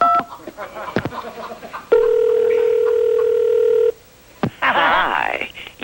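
A landline telephone gives a steady dial tone for about two seconds after some talking, then short dialing beeps are heard before a voice returns.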